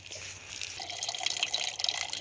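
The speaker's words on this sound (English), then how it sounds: "All the water's coming out." Water runs steadily out of a Millbank filter bag outdoors, a continuous close trickling and splashing stream that grows a little louder midway, with faint dripping and no talk.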